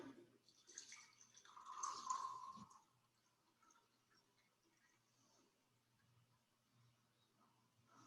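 Water is poured into a mug during a classroom physics demonstration: a short splashing pour lasting under two seconds, followed by near silence.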